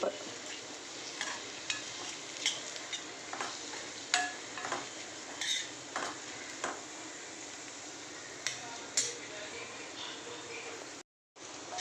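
Paneer bhurji base of onion and tomato sizzles steadily in a pan while a spoon stirs it, with repeated scraping clicks standing out over the continuous frying hiss and a brief silence near the end.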